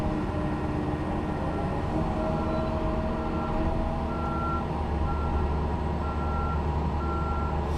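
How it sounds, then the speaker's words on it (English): A fuel truck reverses nearby, its backup alarm sounding a steady run of evenly spaced beeps over a constant low engine rumble. "Fuel truck is here."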